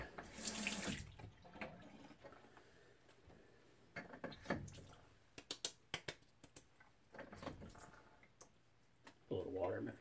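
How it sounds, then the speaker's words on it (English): Running water from a bathroom sink faucet during a shave, coming in short splashing bursts and trickles between quieter gaps, close and fairly soft, with someone speaking at times. "A little water in my face."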